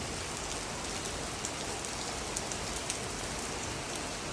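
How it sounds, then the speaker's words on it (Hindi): Rain falling outside at night during a sudden storm, a steady dense hiss with scattered faint drop ticks, fairly quiet and continuous with no talking. "और ये देखो बाहर बारिश हो रही है"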